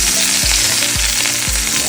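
Food searing in hot avocado oil in a pan, a steady loud sizzle throughout, broken by three low thumps or knocks at roughly half-second intervals as the pieces are turned.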